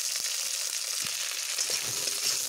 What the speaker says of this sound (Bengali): এই অবস্থায় আমি কেটে রাখা ঢ্যাঁড়সগুলোকে ছেড়ে দেব।